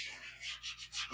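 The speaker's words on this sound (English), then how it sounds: "but we'll kind of start sanding" A sanding block works over freshly applied, slightly soft LiME LiNE epoxy primer during a small dent repair, giving quiet, close rhythmic rubbing strokes in quick succession.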